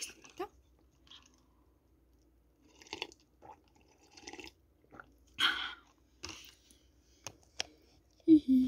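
Cheese balls being eaten at close range, soft crunchy bites and chewing clicks scattered over several seconds, mostly quiet with a few louder crunches and brief vocal sounds.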